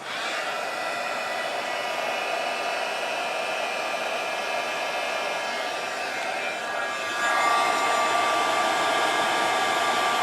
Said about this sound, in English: Now warm up your heat tool first.